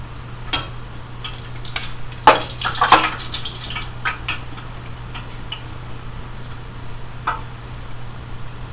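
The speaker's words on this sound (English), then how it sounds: "We're going to gently put it into the oil." Sardinia turnover dough frying in hot oil, giving faint scattered crackles and pops over a low steady hum, with a few sharper sputters near the start.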